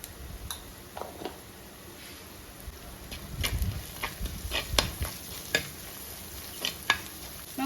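Shallots fry in oil for a Kerala-style sardine curry under a soft sizzle, while a spatula taps and scrapes the pan in irregular clicks, busier toward the middle.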